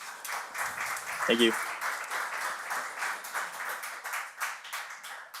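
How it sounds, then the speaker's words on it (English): An audience in Prague at a healthtech incubator kick-off ceremony claps in a continuous, moderately loud round of applause, while a speaker briefly says a few words partway through. "So a big clap from Prague here."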